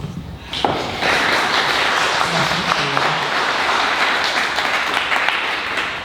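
Dense, steady applause from an audience at a Tampa Bay summer field hearing, many hands clapping close together for about five seconds after a brief opening thump, with a low voice briefly audible underneath.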